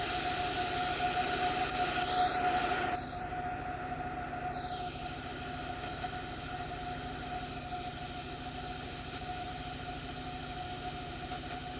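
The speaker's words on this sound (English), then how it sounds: "The engine sounds more like 777, not A380" Airbus A380 jet engines in the Aerofly 2 FS flight simulator hum with a steady cruising whine and tonal drone, slightly softening after a few seconds and then holding constant.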